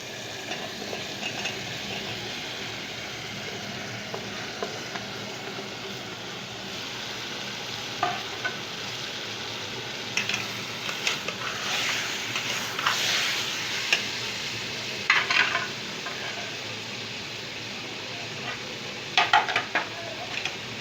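Potato pieces with turmeric cook in a pan, a steady soft sizzle broken by occasional scraping stirs and light clinks of a utensil against the metal.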